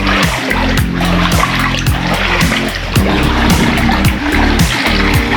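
Floodwater from nonstop rain splashes and churns loudly nearby, a continuous wash of sloshing and spattering with a low rumbling hum running underneath.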